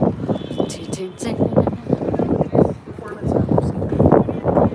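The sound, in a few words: strong wind blowing into the microphone outdoors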